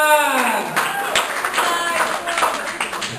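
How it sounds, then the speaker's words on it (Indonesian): Audience at a religious lecture clapping together, a dense burst of applause that fades over a few seconds. "Okey, beri tepukan."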